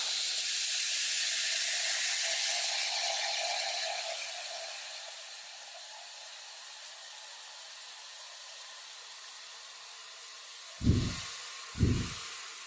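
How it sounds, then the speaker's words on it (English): A showerhead's wide, fine water spray hisses steadily, strongest early and slowly easing to a softer sustained wash, with two brief low thumps near the end. "It is a wide, fine spray, but they've done it in a very satisfying way, so it feels like a warm, fuzzy water blanket."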